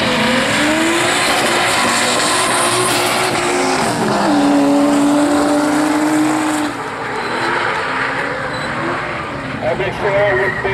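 A 460-horsepower drift car in stadium drift qualifying roars loudly and continuously with a wavering engine pitch and tire noise throughout, while a commentator talks over it.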